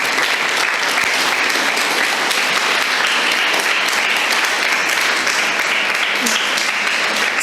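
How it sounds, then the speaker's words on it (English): Sustained, loud audience applause at a spiritual self-awareness talk, dense clapping filling the room steadily for several seconds with a few voices mixed in. "Double the thunderous applause that you have to give to him."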